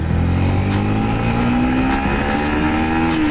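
A Yamaha MT-15 motorcycle pulls hard in first gear, its engine note climbing steadily and loudly as revs build, close and continuous with no talk.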